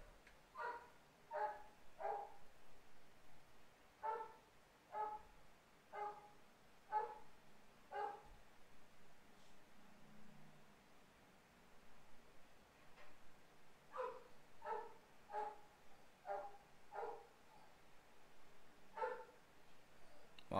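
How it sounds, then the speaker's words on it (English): Several dogs bark in the background in short separated bursts throughout, moderately distant and fairly steady in rhythm, with no speech over them. "What is wrong with these dogs, man?"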